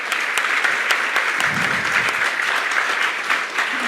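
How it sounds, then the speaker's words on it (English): Audience applause at an international seminar, loud and steady clapping for the full few seconds with no talk over it. "A big round of applause for him,"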